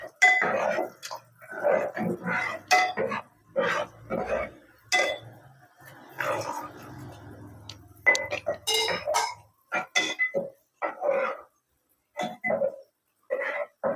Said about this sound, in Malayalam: അതിനുശേഷം നമ്മൾ അരിച്ചു വെച്ച ശർക്കര പാനി കുറേശ്ശെയായി ഒഴിച്ചു കൊടുക്കാം.